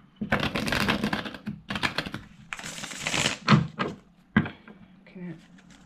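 Tarot cards being shuffled by hand for a Virgo monthly reading: repeated papery riffling bursts and slaps of the deck, fairly close and moderately loud, with a voice speaking briefly between them.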